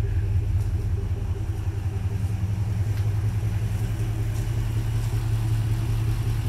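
A Chevrolet Impala SS with a 5.3 V8, parked for three years and just given a new battery, idles with a steady low rumble and an even, continuous engine drone close by.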